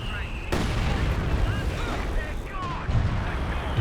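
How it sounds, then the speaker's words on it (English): Howitzer artillery fire in the strategy game Company of Heroes 2: a sharp booming impact lands early, followed by rumbling battle noise and further distant blasts, with someone talking over it. "Some base howitzer fire onto the exit as well."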